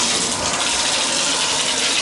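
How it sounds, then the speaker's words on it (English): Water gushes steadily from a tap turned all the way to hot, a loud, continuous rushing spray heard close by with no voices over it. "You can hear the water coming out."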